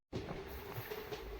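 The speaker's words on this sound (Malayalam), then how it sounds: "നല്ല സ്പീഡിലാണ് ട്രെയിൻ പോകുന്നത്." An Ernakulam–Kannur Intercity train runs at speed, a steady rumbling drone with rushing noise, heard from on board after a brief silent start.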